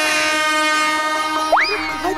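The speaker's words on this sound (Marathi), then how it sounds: "अगं कोकणकडनं जाते भोंगा वाजवत" A passing Konkan railway train sounds its horn, a loud sustained multi-tone blast that breaks off with a rising, wavering final note, with no voices heard.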